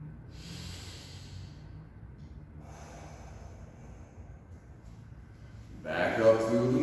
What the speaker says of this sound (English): Big full breaths.